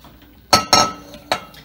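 A green uranium depression glass piece from the 1920s–1940s clinks as it is handled, three bright, close glassy taps in quick succession over a quiet room.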